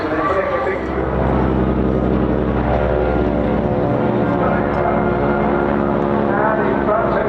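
A propeller aircraft climbs into a stall turn at the Bournemouth Air Festival, its engine droning loudly and steadily with a shifting pitch, while a commentator talks over it.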